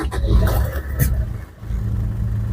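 A car engine thought to have an injector problem runs with a steady low hum close by, broken by a couple of brief noisy bursts near the start and a short dip midway.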